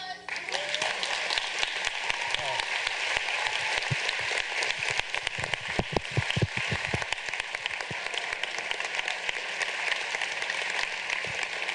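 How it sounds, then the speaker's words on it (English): Lecture audience applauding after a talk on food as culture, a sustained, dense roar of clapping from a large crowd lasting the whole stretch, steady and fairly loud, swelling slightly in the middle. "And let's have some applause."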